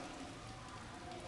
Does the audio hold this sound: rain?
yes